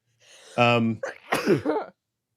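A single loud, close sneeze with a sharp burst of breath, followed by a brief vocal exhale, heard alone without talk.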